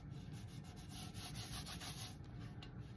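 White cardstock being trimmed, heard as a steady, close scraping rub with quick repeated strokes, quiet and continuous with no voices.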